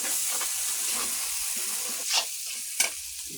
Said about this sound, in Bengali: এটা কষানো হোক ভালো করে আর গোলমরিচের গুঁড়ো দিয়ে দিল